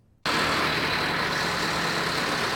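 City buses idle in a stopped line during a bus conductors' protest at Eldorado Station, a steady engine rumble that starts abruptly after a brief quiet moment and holds constant and close.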